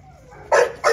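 An American Bully dog gives two loud, close barks in quick succession, each short and sharp, after a brief faint whine.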